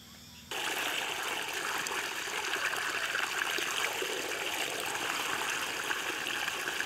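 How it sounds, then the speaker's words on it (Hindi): Water pours steadily from a pump outlet into a paddy field, a loud, close, continuous rushing and splashing that starts abruptly and keeps going with no talk over it. "वहाँ पर वाटर पंप लगाया गया है, वहीं से ये पानी आ रहा है।"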